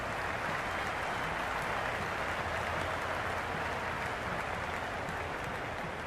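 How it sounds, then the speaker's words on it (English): Spectators at the MCG in the video game Cricket 26, Pakistan vs India, keep up a steady, distant roar of cheering and applause that fills the ground without a break. "The spectators are absolutely buzzing right now. Huge levels of excitement all round this ground."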